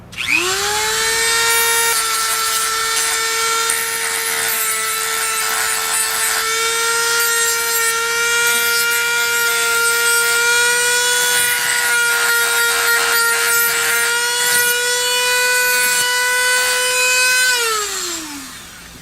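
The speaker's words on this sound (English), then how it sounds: "The sanding drum on the Dremel does a really good job." A high-pitched Dremel with a sanding drum whines steadily for about seventeen seconds, with rough grinding and scraping as it roughens leather pistol grips, then winds down at the end.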